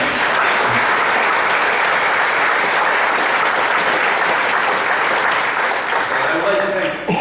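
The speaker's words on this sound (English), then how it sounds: "I would like to give him a round of applause for doing this." A round of applause from an audience at a celebration event, loud, dense and steady clapping that fills the space and continues without a break before easing off at the end.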